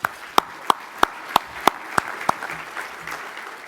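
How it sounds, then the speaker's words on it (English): Applause comes as sharp, evenly spaced claps about three per second, then loosens into scattered clapping as a crowd murmurs faintly. "let's give Bill a round of applause and thank him"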